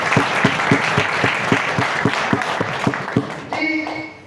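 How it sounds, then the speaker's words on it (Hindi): An audience at a Hindi poetry stage event breaks into loud applause, with dense, rhythmic clapping that carries on steadily before tapering off near the end, when a voice begins over it. "इसके लिए जोरदार तालियां"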